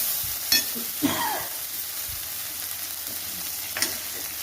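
Drumstick flowers frying in a pan for an egg stir-fry, a steady background sizzle broken by a few sharp stirring scrapes and clinks, with no speech.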